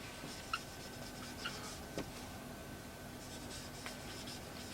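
A pen writes an accounting entry for opening stock in a ledger: faint, soft scratching strokes with a few brief taps, very quiet against steady room noise and a low hum, with no voices.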